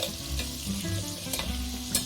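Butter melted in a pan sizzles steadily as three spoons of flour are whisked in, with soft scraping strokes of the whisk against the pan bottom and a few sharper clinks, close and continuous with no talking.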